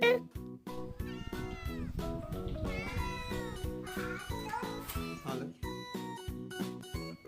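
A cat meows repeatedly over a bouncy, steady musical backing, the cries bending up and down in short phrases.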